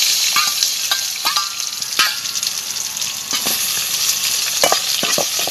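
Onions fry and get stirred in a pan outdoors while cooking in a forest on a hillside: a continuous hiss of sizzling oil with scattered sharp scrapes and clicks of the spoon against the pan.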